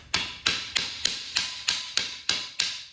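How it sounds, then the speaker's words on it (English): A razor blade hammered into wood for a wooden American flag, nine sharp, evenly spaced hammer taps ringing close and clear, with nothing else heard. "hammer it in"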